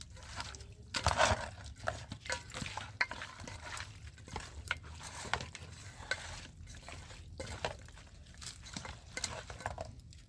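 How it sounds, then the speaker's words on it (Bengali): Chicken being mixed by hand with a spoonful of tomato sauce in a bowl, giving soft, irregular squelching and stirring noises with occasional light clinks of utensils, close and moderately quiet with no talking. "এরপর ভালো করে আমি মাখিয়ে নিচ্ছি এটা"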